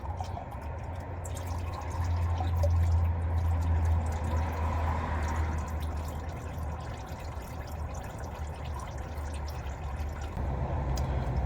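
Engine oil drains from the oil filter of a 2021 Chevrolet Silverado, a steady soft trickle and drip into a pan with low background hum, continuous and moderately close.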